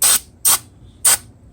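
Three sharp, loud bursts of aerosol spray cleaner hiss onto the front brake parts of a 2006-2014 Chevy Impala, each blast short and close with brief quiet gaps between.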